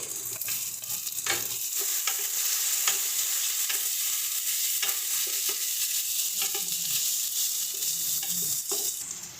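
Chopped tomato goes into a pan of golden-brown fried onions and green chilli, with loud, continuous sizzling and stirring scrapes throughout and no voices.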